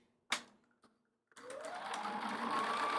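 A sewing machine stitching king-size quilt blocks, starting with a couple of clicks and taps, then running in one steady, close whirring burst that speeds up slightly.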